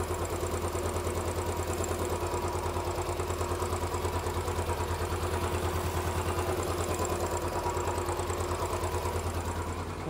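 A Royal Enfield Bullet motorcycle engine idles quietly and evenly, a close, steady rhythmic thumping that holds without change.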